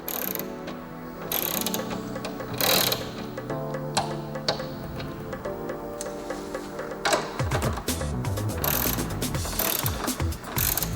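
Ratchet wrench tightening a door part to torque on a Citroën C1, giving close, continuous rapid clicking over a busy mechanical background, with no talking.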